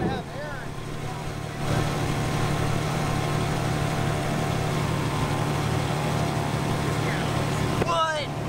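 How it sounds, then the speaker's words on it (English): Small portable air compressor running steadily outdoors while aired-down off-road tires are refilled, a continuous mid-pitched mechanical drone held at even loudness throughout, with a brief burst of voices near the end. "air compressor's working out pretty well"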